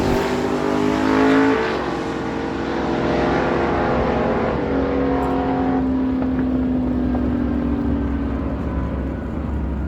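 A 1970 Chevy Camaro and an '86 S10 run a drag race at Miramichi Dragway, with loud engines roaring and shifting pitch as they pull away, a sustained mechanical howl fading slightly over time.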